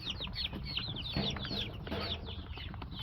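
Chicks peeping and clucking around an Acme plastic feeder, a steady flurry of high, chirpy calls overlapping one another at close range, with soft scratching and pecking noise underneath.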